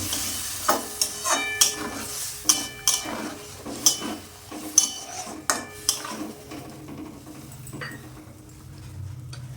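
A spoon repeatedly scrapes and clinks against a pot while Bengali-style ar tangra fish curry is stirred after warm water is added, with rhythmic metallic knocks over a soft simmer that fade toward the end.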